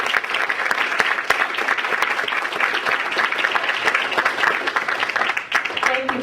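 Sustained audience applause fills a university speakers-series hall, dense and steady throughout with a loud, even roar of many hands clapping.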